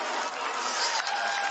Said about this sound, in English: Laurie Evans taking the applause, and rightly so